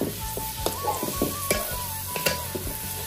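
Pieces of guja fish fry in a pan for a brinjal fish curry, producing a close, steady sizzle punctuated by several sharp clicks and scrapes of a utensil against the pan.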